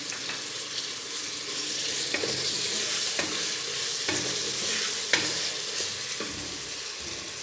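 Ginger garlic paste sizzling and frying in a hot pan, with steady crackle and several sharp scraping stirs at intervals, close up and without talk.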